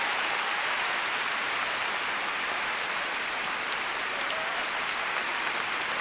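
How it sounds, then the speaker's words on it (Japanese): A figure skating gala audience applauds and cheers steadily for a skater, a dense, even wash of clapping with no breaks across the whole stretch. "織田に声援が注がれます"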